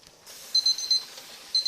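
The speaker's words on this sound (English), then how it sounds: "When the timer goes off, turn that off" A kitchen timer rings with short, high electronic beeps in quick pairs, faint and close, over quiet background hiss.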